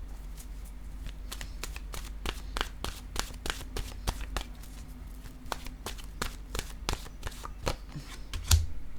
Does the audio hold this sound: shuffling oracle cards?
yes